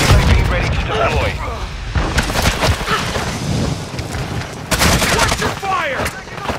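Gunfire in a shooter video game: rapid close bursts and heavier booms fill the clip, mixed with game voice and radio chatter.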